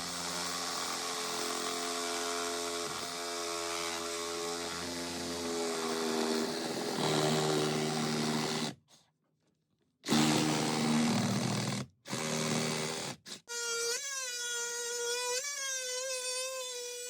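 A power saw cuts a register hole in flooring for HVAC ductwork, a steady loud whine running about eight seconds, then dropping out, with short restarts and a final rising whine in the last few seconds.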